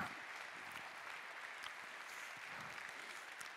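Soft, steady audience applause for the mayor at a forest fire prevention awards ceremony in Vic, a faint, distant wash of clapping hands with no talk over it.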